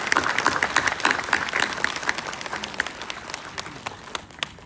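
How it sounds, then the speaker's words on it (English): Crowd at a students' union freshers' meet claps for the union team, a steady, sustained patter of applause from many hands filling the room throughout. "So shall we give a round of applause to this team?"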